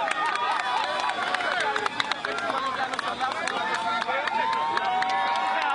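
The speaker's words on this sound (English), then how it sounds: "There is a mass crowd here." Dense, excited crowd gathered at an airport in Haiti awaiting a returning former president's family, with continuous loud babble, cheering, shouting and scattered clapping throughout, close and enveloping.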